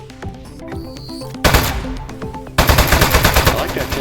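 Gunfire from a weapon in the Aperture Desk Job video game: a burst of shots at about 1.5 seconds, then rapid repeated shots from about 2.6 seconds to the end, over game music.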